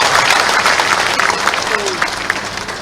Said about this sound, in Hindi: ताली बजाओ तो सबके लिए बजाओ